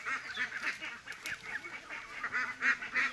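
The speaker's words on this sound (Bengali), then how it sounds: "হাঁসগুলো কত সুন্দর করে হাঁসগুলো চলে যাচ্ছে।" A flock of ducks calling nearby in a steady run of overlapping honking quacks, fairly loud and continuous with no voices over them.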